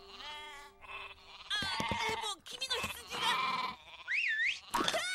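Animated sheep bleat in a Japanese-dubbed toy cartoon, several wavering cries mixed with lively character voices and talk, with a rising-and-falling warble near the end.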